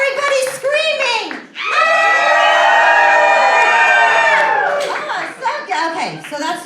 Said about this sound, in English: Now everybody's screaming!